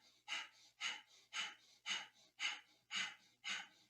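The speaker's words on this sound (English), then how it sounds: "begin the breath of fire" Rapid rhythmic breath of fire in Kundalini yoga, seven sharp, evenly spaced nasal exhalations about half a second apart, close and fairly soft, with no talk.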